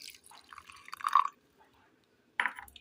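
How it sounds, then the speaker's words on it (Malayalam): Tamarind water squeezed from soaked tamarind is poured into a mixer grinder jar holding roasted coconut and spice masala. A short wet trickle comes first, then a brief louder splash, followed by a second quick pour near the end, with no voices. "ഇതിലേക്ക് അല്പം വാളംപുളി പിഴിഞ്ഞ വെള്ളം ഒഴിച്ചു കൊടുക്കാം."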